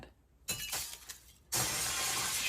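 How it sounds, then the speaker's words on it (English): Glass shatters loudly in a My Hero Academia anime scene, a sharp crash followed by a sustained bright spray of breaking fragments, preceded by a shorter burst of noise. "Shatters the window."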